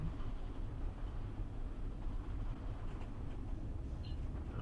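Steady low rumble of a train rolling along in a video game on the San Bernardino Line, with a faint brake hiss near the end and no talking.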